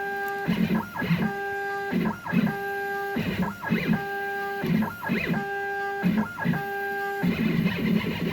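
An X-Carve CNC machine fitted with a pen tool moves through repeated plunges, raising and lowering: rhythmic, pitched stepper-motor whines rise and stop in short regular bursts, close and fairly loud.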